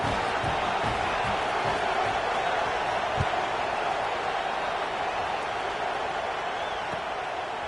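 Steady, dense stadium crowd roar from a college football video game in dynasty mode, heard as a continuous broad wash of cheering with a few low thumps, no distinct bursts across the whole stretch.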